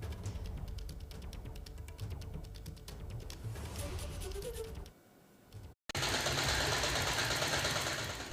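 A woman in a police uniform runs a sewing machine inside a police station, making a steady, loud, rapid mechanical chatter that drops away briefly and then returns at full level.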